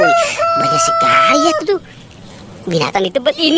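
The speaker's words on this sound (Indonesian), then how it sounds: "ternyata ini ada ayam berkokok" A rooster crows twice, clear and fairly close, while a person talks over it in an animated voice before and after the calls.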